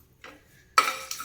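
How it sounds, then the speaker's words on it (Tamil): Pepper, cumin, coriander, unpeeled garlic and dried red chillies dry roast in a pan, heard as a couple of quick, close scrapes and clinks of a spoon against the metal. "மிளகு, சீரகம், மல்லி, அப்புறம் தோல் உரிக்காத பூண்டு அண்ட் வரமிளகாய் எல்லாத்தையும் ஆட் பண்ணி நல்லா ரோஸ்ட் பண்ணிக்கலாம்"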